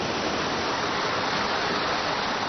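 Rushing stream water driving a water-powered prayer wheel: a dense, steady hiss of flowing water, loud and close, with no breaks or other sounds.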